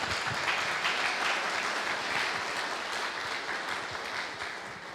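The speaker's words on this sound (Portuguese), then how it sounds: "Obrigado, Baigorre, uma salva de palmas para ele." Sustained audience applause for a speaker at a conference panel event, steady dense clapping throughout at an even level, fading slightly toward the end.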